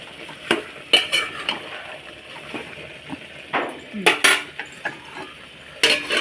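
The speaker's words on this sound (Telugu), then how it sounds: "ఈ టొమాటోస్ ఫ్రై అయ్యేటప్పుడు మధ్య మధ్యలో కొంచెం కలుపుతూ ఉండాలి" Tomatoes frying in oil in a pan, stirred with a utensil that clinks and scrapes against the metal in irregular bursts over a soft sizzle, with someone talking throughout.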